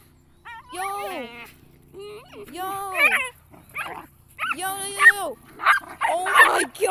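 Dogs brawling nearby: a rapid run of loud barks, yips and whimpering cries, with excited voices talking over the fight.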